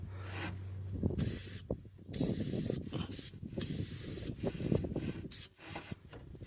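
Several bursts of PB Blaster penetrating oil spraying from an aerosol can close by, separated by brief pauses, with faint scraping and handling noises in between.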